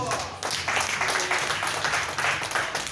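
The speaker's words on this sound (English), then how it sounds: "Clap for Jesus." An audience at a church sermon claps together: dense, sustained applause from many people, fairly loud and continuous, with faint voices mixed in.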